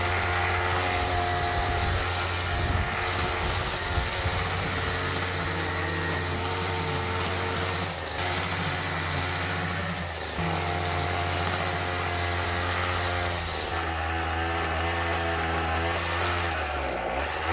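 A repaired, once-discarded Weedeater mower engine runs continuously with a buzzing, high-pitched small-engine whine, its pitch wavering slightly and dipping toward the end, close by and without talk.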